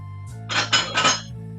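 A small cup is picked up and handled in a kitchen, a short cluster of close clinks and rattles against other dishware over a low steady hum.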